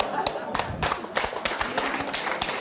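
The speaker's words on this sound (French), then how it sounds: "Ah, les applaudissements sont séparés." Studio audience applause on a French television talk show, a dense spread of claps with scattered louder hits, steady and fairly close throughout.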